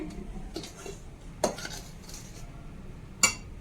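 A metal spoon scrapes and clinks against a bowl while stirring ingredients with ghee, with two sharper knocks standing out from the steady mixing.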